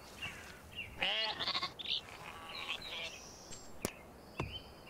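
Sheep in the Viking strategy game Northgard bleat in short wavering calls over a steady ambient game background, with a few sharp interface clicks and pings between the bleats.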